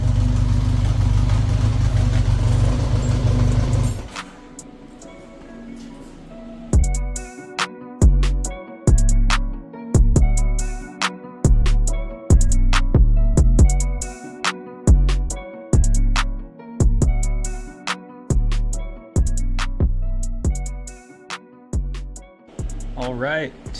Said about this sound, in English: So I'm gonna let it warm up, and we might have to do a carb sync.